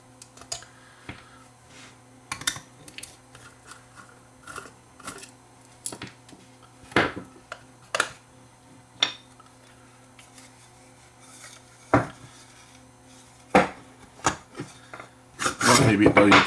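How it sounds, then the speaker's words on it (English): A Cincinnati Microwave Escort radar detector being taken apart by hand: scattered sharp clicks, rubs and scraping knocks of plastic and metal parts against a quiet background hum, growing busier and louder at the end. "Let's just take this thing apart and take a look at the construction of one of these made in USA Cincinnati Microwave radar detectors."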